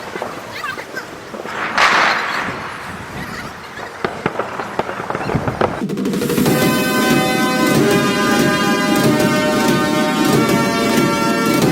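Explosions from missile strikes on Iran, heard as a few sharp blasts and rumbling booms over the first several seconds, after which a dense, steady tonal wash takes over.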